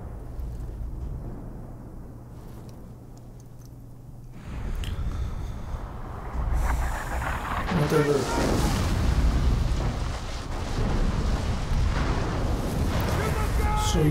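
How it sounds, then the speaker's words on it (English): Fire boulders hurled by orcs in Shadow of War: a quiet rumbling start gives way to loud, rolling eruptive booms and crashing impacts that build and churn continuously toward the end. "Fire boulders being thrown away, probably by the orcs"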